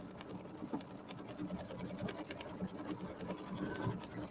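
An embroidery machine stitches a stipple fill design for a spring settee pillow, with a rapid, steady mechanical needle chatter at close range that runs continuously.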